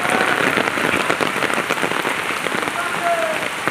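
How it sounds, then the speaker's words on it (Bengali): Heavy rain pours down in a dense, loud, unbroken patter on surfaces nearby, a steady roar throughout. "কি জোরে বৃষ্টি পড়ছে।"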